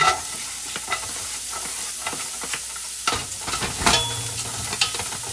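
Chopped onion sizzles in olive or avocado oil in a pan, a steady loud frying hiss broken by repeated scraping stir clatters, with no talking.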